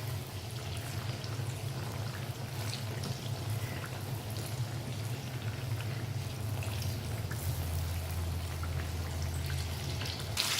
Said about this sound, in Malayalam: ഇതിനി ഒരു ഗോൾഡൻ ബ്രൗൺ ആകുമ്പോഴത്തേക്ക് നമുക്ക് വറുത്തെടുക്കാം.